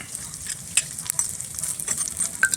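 Ginger, garlic, onion and green chillies frying in oil for mutton curry masala make a steady, close sizzle with light stirring scrapes and occasional crackles, and no voices over it.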